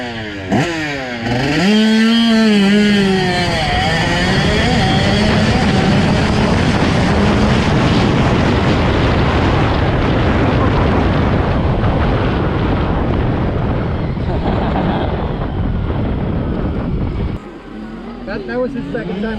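A home-made six-speed electric dirt bike being ridden hard, its loud, rising and falling motor whine sweeping up and down close by amid heavy wind buffeting for most of the run, ending abruptly near the end.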